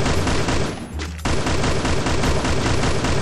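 Groza rifle gunfire in a shooting video game, loud rapid bursts of automatic shots in a dense continuous stream, broken by a short gap of near silence before firing resumes.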